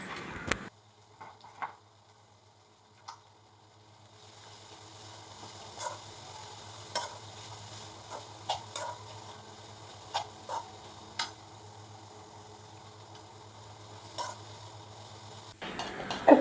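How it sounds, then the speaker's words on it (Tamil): Vegetables stir-fry in oil in a home kitchen for chicken fried rice. A soft continuous sizzle runs under irregular spatula scrapes and taps against the pan, with no talk. "ஜஸ்ட் இதை எண்ணெயில் வதக்கிட்டாலே அது வெந்துடும்"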